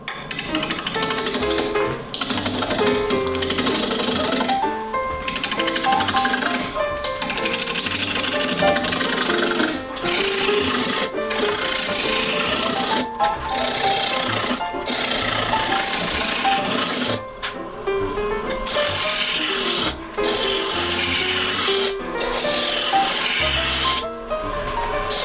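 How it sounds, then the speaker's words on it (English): Roughing gouge truing up a maple limb spinning on a wood lathe, a continuous loud scraping, chattering cut with brief breaks as the tool is repositioned, sustained and close with no talking. "I'm just going to use a roughing gouge and true it up."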